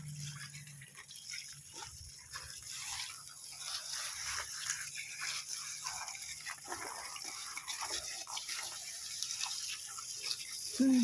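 Water from a hose soaking around plant clumps in a dry garden, a steady, faint outdoor flow and splash lasting throughout, with a brief stronger gush near the end.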